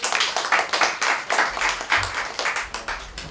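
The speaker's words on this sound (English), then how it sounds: "Let's give her a warm round of applause." Audience applause at a social services conference, a patchy mix of individual hand claps forming rhythmic bursts rather than a dense roar, moderately loud throughout.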